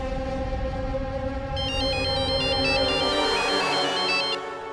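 A mobile phone ringtone for an incoming call plays loudly over a droning background, a repeating electronic melody of stepped tones that starts a second and a half in and cuts off near the end.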